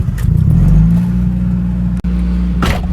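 A stance car with a weak battery starts up, its engine catching with a loud low rumble that settles into a steady idle, with a brief dip and a faint click partway through.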